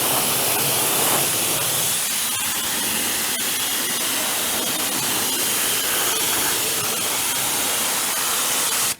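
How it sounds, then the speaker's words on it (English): Water spray rinsing a 2020 Shelby GT500 during a wash, a steady loud hiss that continues unbroken and cuts off abruptly at the end, with no talking. "All right, we'll rinse it off."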